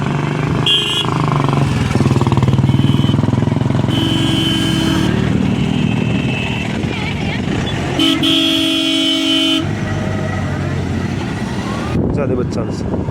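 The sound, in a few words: car reversing in a crowded fair parking area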